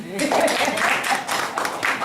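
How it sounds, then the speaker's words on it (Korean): A church congregation applauds during a Korean sermon, a continuous wash of clapping from many hands lasting a couple of seconds, fairly loud and close, with some voices mixed in. "한번 박수 쳐줘."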